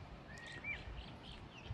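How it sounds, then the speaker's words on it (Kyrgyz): Faint, distant bird chirps and short whistled calls outdoors in a cool rural spot in Sokuluk, Kyrgyzstan, repeating thinly over a low steady background hum, with no talking. "бул жакта суунун, куштардын угулган сонун жерде экен"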